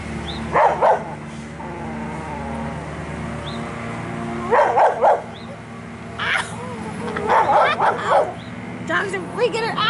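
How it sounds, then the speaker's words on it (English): Dogs bark and yip in short excited bursts, some close and loud, mixed with whimpering and people talking in the background. "Dogs are freaking out."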